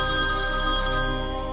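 A telephone rings steadily and loudly on its own, a continuous electronic ringtone heard while calling the electricity lineman during a power cut.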